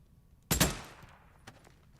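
A sharp double gunshot from a gun in the video game Days Gone, close and loud, followed by a fainter single shot about a second later, over quiet background.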